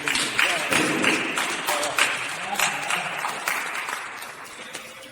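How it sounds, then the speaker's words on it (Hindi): An audience at a monthly Hindi poetry gathering and award ceremony applauds a poet with sustained, fairly even clapping that fills the room, while voices carry faintly underneath. "आपके लिए जोरदार तालियां हो जाएं"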